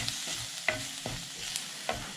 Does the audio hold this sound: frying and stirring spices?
yes